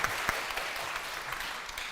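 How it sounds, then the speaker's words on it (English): An audience at an innovation demo day breaks into steady applause for a presenting startup team, a dense even wash of clapping that continues through the clip. "A round of applause for Eric and David Sheu from CO2 Angels"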